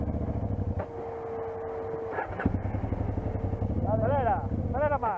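A maxitrail motorcycle engine idles and revs under a rider's control during a riding course, a steady mid-pitched thrum that rises in short pulls, with people talking over it throughout.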